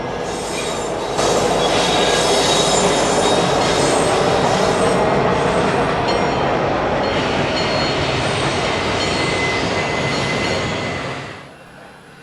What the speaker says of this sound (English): I was able to catch a southbound Norfolk Southern intermodal train as it passed the museum.